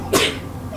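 One sharp, close sneeze bursts out loudly, followed by a brief breathy tail and then quiet room tone.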